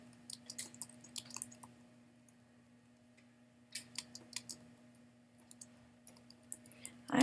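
Key presses on a computer keyboard come in two short bursts of quick clicks, fairly close and moderately quiet, over a steady low hum, with a louder clatter at the very end.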